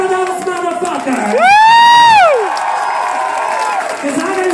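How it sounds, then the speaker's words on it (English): A theatre comedy crowd cheers and whoops, with one loud rising-and-falling shout standing out over a continuous wash of clapping and crowd noise. "Clap for those motherfuckers!"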